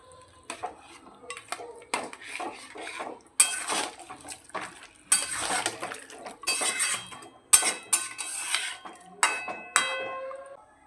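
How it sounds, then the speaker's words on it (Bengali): A spoon mixes catla fish head curry with potatoes and added water in a metal pot, giving close, irregular scrapes and clinks with a few louder knocks against the sides. "পরিমাণ মতো জল দিয়ে দিচ্ছি খুব ভালো করে মিশিয়ে নিচ্ছি"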